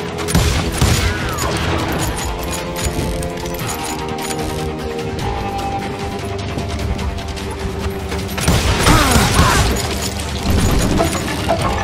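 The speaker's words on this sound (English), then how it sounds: "They're shooting in the street!" Rapid gunfire fills a street shootout in the Wild West video game Call of Juarez: Gunslinger, with dense overlapping shots, booms and crashes throughout and a louder burst near the end.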